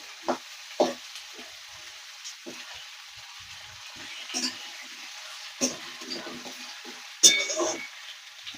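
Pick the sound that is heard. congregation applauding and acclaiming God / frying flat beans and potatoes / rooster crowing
frying flat beans and potatoes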